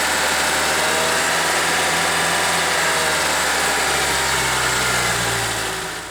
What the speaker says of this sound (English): I'm hoping that this will solve what I believe is bearing noise in the other one